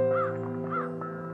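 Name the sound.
crow cawing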